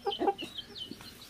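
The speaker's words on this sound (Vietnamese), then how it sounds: "Gà." A chicken clucks close by in a quick burst of several short clucks, then trails off into softer calls.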